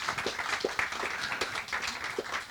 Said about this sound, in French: Applaudissez Cathy.